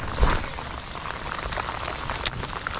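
Heavy rain pours down onto a lake in a downpour, a dense, steady hiss of drops close by, with no voices.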